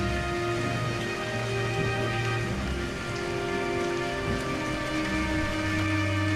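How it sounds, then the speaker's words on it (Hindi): Heavy, steady downpour drumming on a surface, dense and unbroken throughout, with a low rumbling undertone. "ये तो भयंकर बारिश है"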